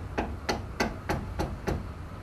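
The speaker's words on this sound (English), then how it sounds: "we're going to take 4 wooden dowels and push them with the aid of a mallet" Six evenly spaced sharp taps from a mallet driving wooden dowels into holes in the top of an aluminium frame for a Red Sea Max S-650 reef aquarium, close and crisp with short pauses between strikes.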